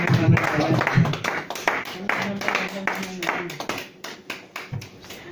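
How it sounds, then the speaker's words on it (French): A church congregation claps during a worship service, uneven hand claps and taps mixed with voices, singing and talking over them, loud and close, thinning out toward the end. "est-ce qu'on va applaudir pour la gloire de Dieu?"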